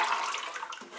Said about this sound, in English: Now I'm pouring this oil back in my bucket